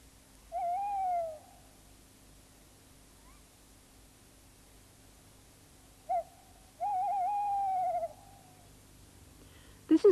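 Tawny owls at a woodland territory boundary give a brief hoot, then a short note and a long quavering hoot after a pause, clear but not loud over low background hum.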